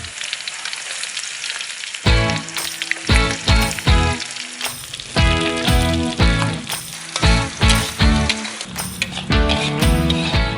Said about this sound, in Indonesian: Siapkan minyak goreng, lalu tumis irisan bawang merah dan putih sampai tercium aroma harum.